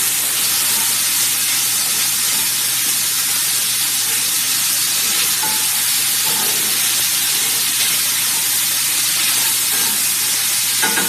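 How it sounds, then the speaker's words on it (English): Bacon frying in a pan for a jalapeño hash, a loud continuous sizzle and crackle with a slotted spoon stirring and scraping through it. "I just have a slotted spoon because when I remove it, I want all the grease to stay in there. So that's what I'm stirring it with."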